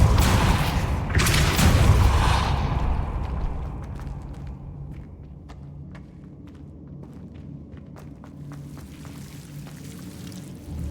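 A Repulsor spell blast in the Hogwarts Legacy video game lands as a loud booming burst with a broad rush of force, then decays into a rumbling tail and scattered small impacts and debris clatter.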